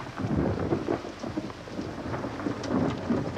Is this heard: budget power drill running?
no